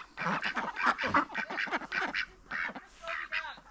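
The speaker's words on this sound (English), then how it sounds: "We had ducks over here who want some attention." Farm ducks crowd close and quack continuously in overlapping nasal bursts, with a brief low thump near the start and a short lull before the calling resumes.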